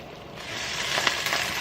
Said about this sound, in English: Do y'all hear that sizzle?